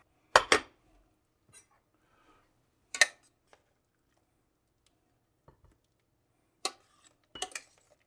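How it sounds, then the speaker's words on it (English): Gnocchi soup with chicken and spinach ladled into a bowl, heard as a few sharp, isolated clinks of a ladle against the pot and bowl, spaced apart with silence between them. "Now all you have to do is ladle that into a bowl."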